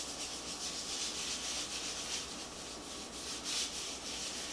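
Bristle brush scrubbing a glass stovetop, a continuous close rough rubbing with slight back-and-forth pulses, steady and alone without speech.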